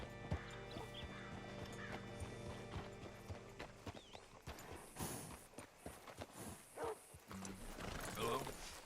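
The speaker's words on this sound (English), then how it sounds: "Hitch your horse up here." Horse hooves clop on hard ground in Red Dead Redemption 2, slow and uneven, mixed with a whinny, clanking tack and game voices speaking over the scene.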